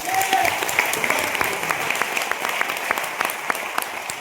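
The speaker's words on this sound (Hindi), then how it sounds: "एक बार कोठारी सर की जबरदस्त ताली बजाएंगे।" An audience at a seminar gives a hearty round of applause for a speaker, a steady crackle of many hands clapping with sharper individual claps standing out, sustained throughout at moderate loudness.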